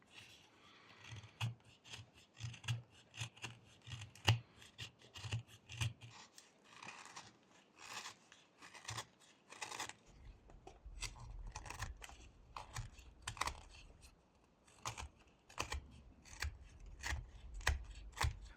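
A knife whittling a small wooden crow figure, giving many light scraping and shaving cuts in quick, irregular succession, close and soft, continuing without talk.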